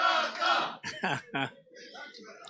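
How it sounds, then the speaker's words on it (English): Supporters of the Bangkok pool team at the 2019 Asia Pool Challenge in Jakarta give several short, sharp shouts and cheers in quick bursts, fairly close, then fade into quieter background voices. "You can hear the Bangkok team is cheering in the background."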